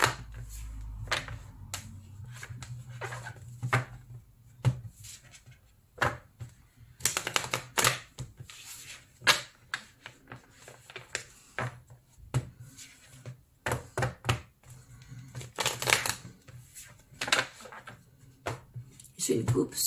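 Oracle cards shuffled three times by hand, a series of close, crisp riffling and slapping bursts with pauses between, plus occasional soft handling noises.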